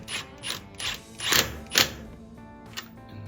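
A ratchet tightens the wheel lug nuts on a 2004 Ford Mustang, giving several quick clicking bursts of metallic ratcheting at a fairly even pace, close and moderately quiet, followed by a lone click.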